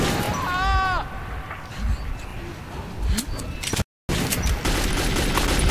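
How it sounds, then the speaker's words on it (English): Enemy gunfire crackles in the post-apocalyptic shooter Metro 2033, with scattered sharp shots and bursts over loud game noise, while a player voice is heard and the sound briefly cuts out. "he just wakes up and then starts shooting"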